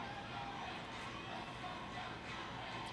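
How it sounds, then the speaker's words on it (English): A crowd at a state wrestling championship match produces a steady, distant wash of murmuring and faint cheering, with no clear individual voices standing out. "You can hear the crowd"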